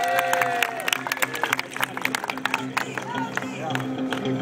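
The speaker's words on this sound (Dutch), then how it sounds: "Geef ze ook een applaus, hè." An audience claps and cheers at an indoor car stunt show at AutoRai 2011, a scattered crowd noise under a loud announcer talking throughout.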